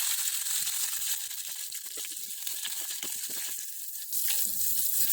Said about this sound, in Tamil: அது கூட நம்ம 2 பச்சை மிளகாயும் ஆட் பண்ணி அது நல்லா பொரிஞ்சு வரட்டும்